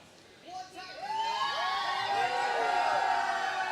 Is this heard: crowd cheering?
yes